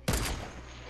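A single sharp sniper rifle shot in a video game, loud and close, followed by a decaying rumble and tail.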